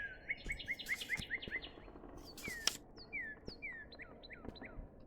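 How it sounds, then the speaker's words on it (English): In a bird-watching game, a bird gives a quick series of high chirps, then a pause and several descending whistled notes, clear over a faint ambient background with scattered clicks. "Whatever bird that was around here."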